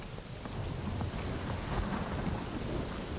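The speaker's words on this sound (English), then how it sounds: "That is some really crazy lightning out there." A video game thunderstorm: steady, dense rain hisses throughout while deep thunder rumbles underneath, with no voices.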